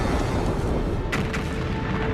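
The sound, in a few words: explosion sound effect of a supernova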